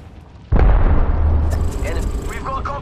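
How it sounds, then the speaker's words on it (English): A thermite grenade in Apex Legends goes off with a sudden loud boom that settles into a sustained roaring, crackling burn, with faint higher game effects layered on top. "Fire in the hole! Thermite grenade!"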